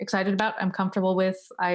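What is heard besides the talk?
No distinct noise like a dog, phone or traffic.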